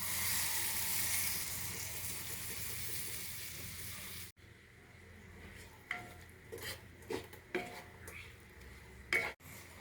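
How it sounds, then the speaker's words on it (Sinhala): Coconut milk is poured into a pan of okra curry with tomato and stirred, giving a steady wet sizzling hiss followed by scattered spoon scrapes and clinks against the pan, close by with no talking. "ඊළඟට අරගත්තු පොල් කිරි අඬු කෝප්පයත් එකතු කරනවා."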